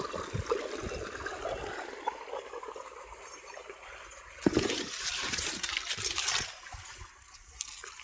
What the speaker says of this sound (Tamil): தண்ணி சவுண்டு